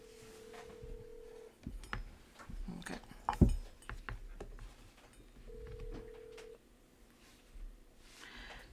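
A telephone call rings out in two steady electronic tones separated by a few seconds, mixed with scattered clicks and soft background noise, with no talking.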